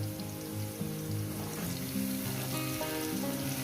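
Capsicum fries with chicken in a pan, giving a soft, steady sizzle. A faint tonal, music-like background runs underneath.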